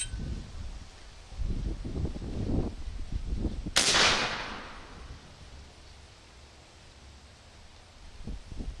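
.45 BushPig air rifle fired at a target 60 yards away, giving one sharp, close crack with a short hissing tail, set against low rustling and handling noise outdoors.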